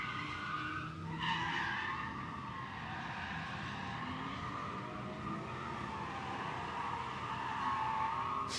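A drift car slides past at an event in Mexico, its tires squealing in a long, loud, wavering screech over engine roar that sweeps and bends as it goes by, with no talk.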